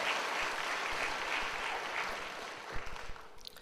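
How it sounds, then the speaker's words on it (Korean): Church congregation applauding together to welcome a new member at a Sunday service, a steady wash of clapping that holds evenly and then thins out into a few scattered claps near the end. "다 함께 박수로 환영하시겠습니다"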